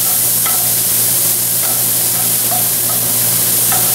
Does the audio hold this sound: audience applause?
no